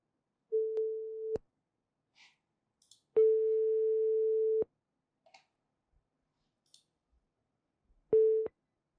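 Outgoing telephone line tone during a sales cold call: three steady beeping tones of varying length separated by silences, clear and alone with faint clicks between.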